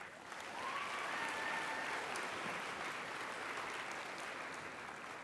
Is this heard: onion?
no